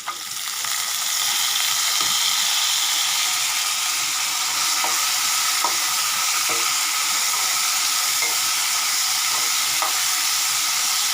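Ivy gourd curry with tomatoes sautés in a pan, giving a continuous close sizzle and hiss, with a few scattered scraping stir strokes over it.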